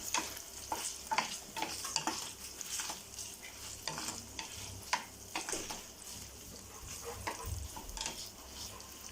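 Mutton frying in a pan over medium flame sizzles steadily beneath repeated stirring scrapes and clacks of a spatula, close and fairly quiet, with no talking.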